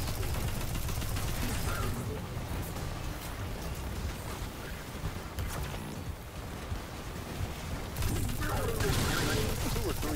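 Sustained gunfire from two guns pounding a ship during a heroic public event at a Cabal excavation in Destiny, a dense, loud barrage with rumbling low end that eases midway and surges again near the end.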